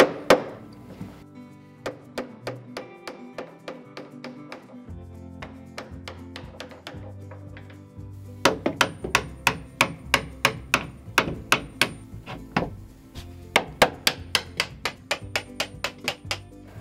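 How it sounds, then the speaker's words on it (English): Hinge pins being tapped out of an old pantry door with a hammer, a long run of sharp metallic knocks, sparse at first and then in quick close bursts, loud and near with no talk. "I'm just gonna pop these pins out"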